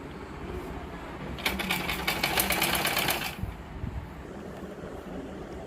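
A sewing machine stitches around the neckline of a lined blouse in a single fast, rattling burst of about two seconds, then stops, leaving quiet room noise before and after.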